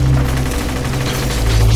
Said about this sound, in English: Can't you hear gunshots?